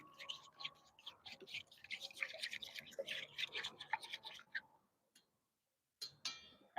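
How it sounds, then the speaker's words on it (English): Cream custard base for French toast being whisked in a bowl at a campsite, a quick, close, scratchy rattle of rapid strokes that stops after about five seconds, followed by brief clinks. "So we'll whisk it up nicely."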